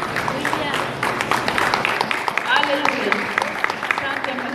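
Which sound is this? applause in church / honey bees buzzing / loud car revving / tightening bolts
applause in church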